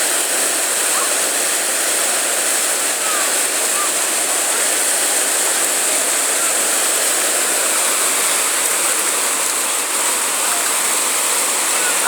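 Rushing whitewater of the Chattahoochee River rapids roars as a steady, loud, broadband wash for the whole stretch, with no break and no voices.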